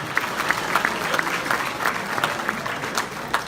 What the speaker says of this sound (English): So I ask you to give her a good applause.